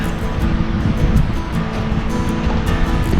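Steady wash of sea waves with a rushing, windy roar, continuous and fairly loud, with no voices.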